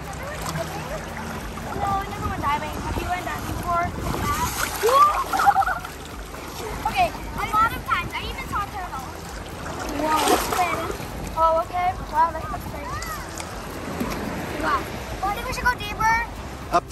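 Waves splash and slosh at a Boracay beachfront at Station 1, with intermittent surges over several seconds under people talking and playing in the water nearby.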